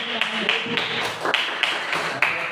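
Steady crowd applause with scattered sharp claps, continuous throughout and fairly loud, with a faint voice mixed in.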